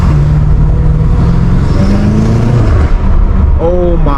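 A catless F90 BMW M5 Competition revs hard while driving on backroads, its loud, continuous engine roar rising and falling in pitch throughout, with a brief rise near the end.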